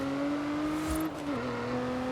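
A car engine in Forza Horizon 5 holds a steady, loud drone, its pitch rising slightly and then dipping once as it shifts, with no talk over it.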